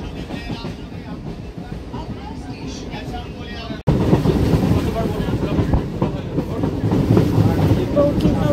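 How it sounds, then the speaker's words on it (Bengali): Local train running from Bankimnagar toward Ranaghat, heard from inside the carriage with a steady rumble and rattle; a sharp jolt near the middle brings louder, denser clatter that continues to the end. "বঙ্কিমনগর ছেড়ে রানাঘাট ঢুকছে ট্রেন।"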